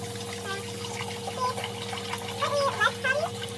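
Water runs steadily into a kitchen sink while rice is washed, a constant low flow with light splashes and trickles and a faint hum underneath.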